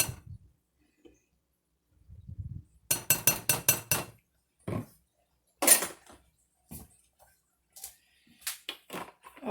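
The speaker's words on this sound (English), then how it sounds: "let's just stir those dry ingredients together with a fork" A fork stirs dry ingredients for a chicken pot pie in a glass bowl, giving quick bursts of rapid metal-on-glass clinking and scraping with short pauses between rounds, close and fairly crisp.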